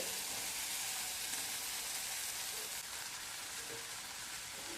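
Poha, flattened rice, being stirred and sautéed in a hot pan for kande pohe, a soft steady sizzle with faint scraping, quiet and continuous throughout.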